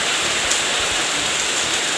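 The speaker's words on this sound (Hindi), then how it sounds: "देखो कितनी ज़ोरों से बारिश आ रही है।" Heavy rain pours down steadily in a village, a dense even hiss with no pauses and no voices.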